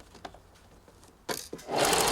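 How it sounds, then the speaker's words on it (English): Sewing machine stitching the side seam of a bolero: a few quiet mechanical taps, then the motor whirs up loud and continuous near the end, close by. "line it up with a 1 centimeter as per usual on the needle plate, lock in your stitches, and then line up the edges, go all the way down."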